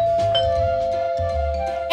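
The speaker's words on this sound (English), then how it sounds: "They ring the doorbell" A doorbell at a schoolhouse in an animated Sesame Street story, sounding as a steady, clear chime tone held over soft background music.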